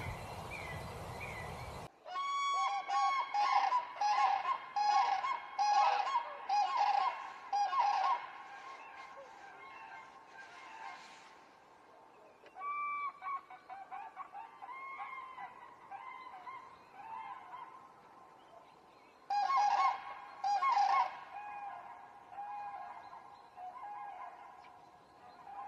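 Common cranes give loud, bugling calls outdoors in a repeated burst of trumpeting notes. A quieter stretch follows, then a second burst near the end. No voices are heard.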